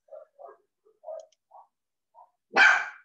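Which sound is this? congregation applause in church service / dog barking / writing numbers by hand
dog barking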